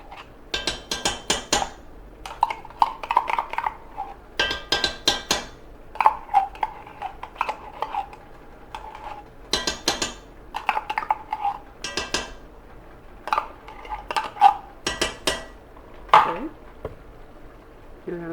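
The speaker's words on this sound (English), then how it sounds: "Beat that up with this spoon." A metal spoon beating a whole can of organic tomato paste in a dish, irregular bursts of clinking, scraping strikes against the dish, close and clear, with a voice speaking between them.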